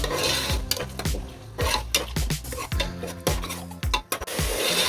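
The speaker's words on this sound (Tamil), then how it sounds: "இப்போ இஞ்சி பூண்டு பேஸ்ட்டில் பச்சை வாசனை போகிற அளவுக்கு நல்லா வதக்கி வந்து விட்டுடலாம்" Ginger garlic paste being sautéed with yogurt in a pan for kalari curry, with repeated loud metal spatula scrapes and clinks against the pan over a light sizzle, close and steady.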